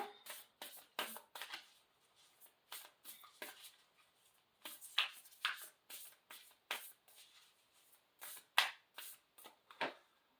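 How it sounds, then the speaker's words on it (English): An oracle card deck being shuffled close up in a quiet room, short repeated riffling bursts and soft slaps in an uneven rhythm. "They're telling me to shuffle it a little bit more"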